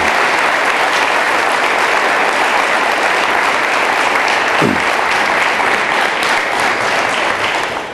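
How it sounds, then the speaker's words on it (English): A large crowd claps steadily and loudly, a dense wash of applause that continues without pause for several seconds. "Please join me in giving them a very well-deserved round of applause."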